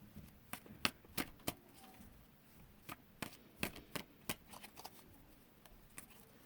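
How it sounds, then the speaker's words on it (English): Cards being shuffled in quiet surroundings during a tarot-style reading, sharp riffling snaps and taps in quick irregular bursts, close and crisp, with short pauses between clusters. "I feel like I need to shuffle one more time."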